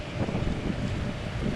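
Steady gusting wind from a whirlwind roars across the microphone in a continuous rushing blow, low and full, with no voices.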